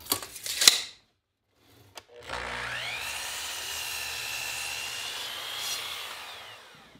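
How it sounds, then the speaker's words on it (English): A saw rough-cuts a piece of 2x4 lumber, with a short clatter and a pause before a steady, loud cutting whine runs for several seconds without any talk. "I'll start by rough cutting pieces of 2x4, a little heavier than 17"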